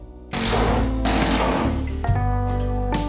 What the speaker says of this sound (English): Gonna add 2 more screws